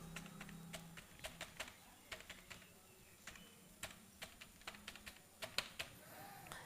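An email address being typed on a computer keyboard: quiet, irregular clicks of keys pressed one at a time, close by, against a faint background hum.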